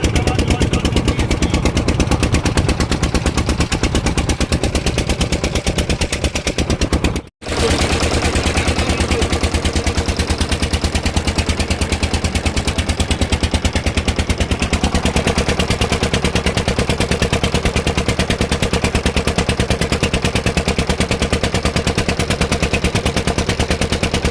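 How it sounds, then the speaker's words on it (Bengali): A generator runs in a flooded village in Bhutni, Malda district, a loud, unbroken engine drone with a rapid rhythmic chug that cuts out for a moment before resuming. "ভিডিওর আওয়াজ, জেনারেটরের আওয়াজ শুনে বিরক্ত হবেন না"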